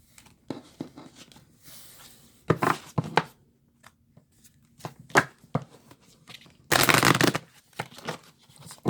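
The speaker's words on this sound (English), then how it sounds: "Let's give this other deck a little shuffle." Tarot cards shuffled by hand in short bursts of riffling and flicking, with a longer, louder riffle near the end; close and crisp, with quiet gaps between bursts and no talking.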